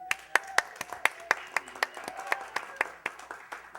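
Applause from a board meeting audience for a website designer, a sparse, fairly faint round of distinct individual claps at an irregular rhythm with no talking.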